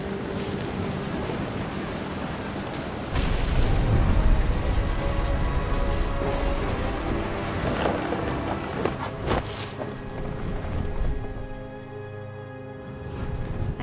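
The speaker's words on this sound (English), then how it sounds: "The thunder sounded much too close and full of angry power." A thunderstorm in the video game What Remains of Edith Finch: steady rain and gusting wind, with a heavy roll of thunder swelling near the start and fading rumbles afterward, no voices.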